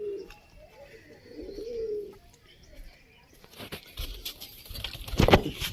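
Pigeons that have just eaten grain coo softly and shuffle about close by, then break into louder wing flutters and scuffling toward the end.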